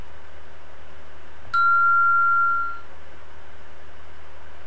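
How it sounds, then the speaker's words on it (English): A single bright electronic chime rings out alone, a clean sustained tone that holds for over a second and fades, over faint steady background hum with no talking. "I just felt like that was a good chime"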